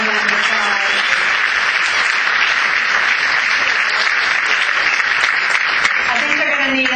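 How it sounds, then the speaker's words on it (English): A crowd at a sled-dog musher awards event applauds loudly and continuously, with brief speech audible at the start and a voice returning near the end. "Let's give another round of applause."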